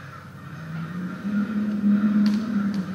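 A crow caws a few times from moderate distance, harsh repeated calls over a quiet outdoor background, with a brief higher sound near the end.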